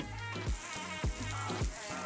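Bitter gourd (karela) sizzles steadily as it fries in a covered pan, with a continuous hiss and faint repeating tonal sweeps layered over it and no talking.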